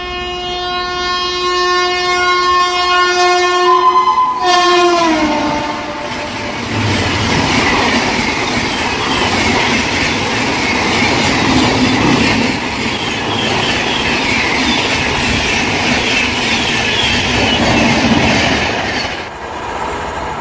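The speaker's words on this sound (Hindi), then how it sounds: "22/682 राजधानी एक्सप्रेस आ रही है, जो कि सिकंदराबाद के लिए जाएगी हजरत निजामुद्दीन से" The 22682 Rajdhani Express from Hazrat Nizamuddin to Secunderabad sounds a long, loud horn blast, then thunders past close by with a continuous roar and wheel clatter that lasts for many seconds.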